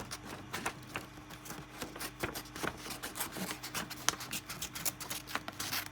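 Dull scissors snip through a sheet of sublimation transfer paper: quiet, close, uneven crunching cuts in a loose rhythm with no talking.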